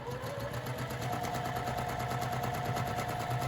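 Domestic sewing machine stitching pieces of quilt fabric, guided along the presser foot edge, running as a steady continuous whir with a fast rhythmic needle pulse throughout, close and alone.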